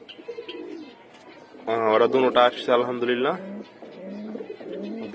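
Domestic pigeons, a breeding pair with a large male, coo in a home loft. The low, throaty calls come through beneath someone talking nearby.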